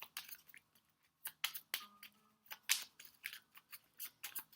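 Tarot cards shuffled by hand in a series of quick, crisp riffling bursts, several separate shuffles close to the mic with short pauses between them.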